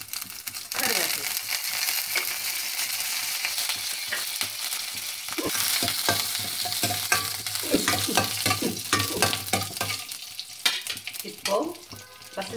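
Mustard seeds, urad dal, cumin, green chili and curry leaves sizzle and crackle in hot oil while being stirred, a loud continuous hiss broken by scraping strokes and popping bursts.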